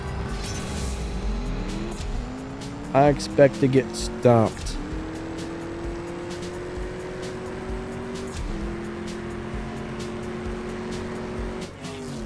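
Race cars in the CSR2 racing video game accelerate from the start with a rising engine whine that climbs through gear shifts, under continuous talk, with a few sharp bursts midway.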